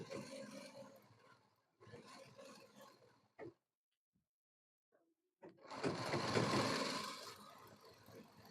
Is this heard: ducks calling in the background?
no